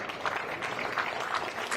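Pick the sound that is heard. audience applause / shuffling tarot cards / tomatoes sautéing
audience applause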